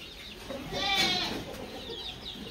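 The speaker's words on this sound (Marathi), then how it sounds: "कोंबडा आहे कोंबडा" A rooster crowing close by in a rural Maharashtra village at a bullock cart racing setting, one loud crow rising and falling through the middle over steady background noise.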